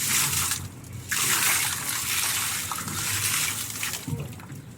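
Water poured out at a market construction site in Tondo, Manila, a steady splashing gush with brief dips, fairly close and loud with no speech over it.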